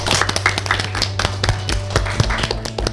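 A small group claps together on a countdown cue, producing a brief burst of loose, uneven claps and taps, close and fairly loud.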